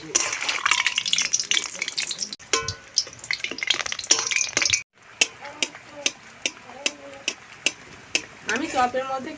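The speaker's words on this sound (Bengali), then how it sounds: "বেসনের ব্যাটারের মধ্যে আলুর মশলাটাকে দিয়ে তেলের মধ্যে ছেড়ে দিচ্ছি।" Gram flour battered potato chops dropped into hot oil, a steady sizzling hiss that later thins to scattered crackles and clinks, with someone speaking over the cooking.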